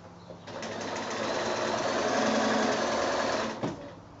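A sewing machine runs a quarter-inch seam on a small quilted bag made from six-inch squares, one continuous whirring stitch run of about three seconds starting and stopping cleanly, close up.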